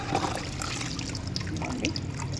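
Buttermilk water mixed with jaggery trickles and splashes steadily as it is poured from a mug, a continuous close pour lasting a couple of seconds.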